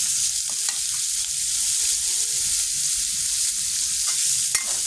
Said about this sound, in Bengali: পেঁয়াজটা ভেজে হয়ে গেলে লালচে, তারপর মাছগুলো তরকারিগুলো ঢেলে দেবেন